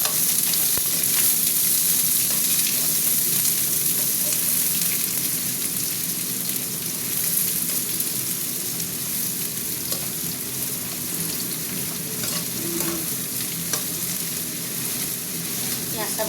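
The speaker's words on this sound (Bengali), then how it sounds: "পেঁয়াজটা ভাজা ভাজা হোক" Onions frying in a pan give a steady, close crackling sizzle that lasts the whole stretch with no pauses.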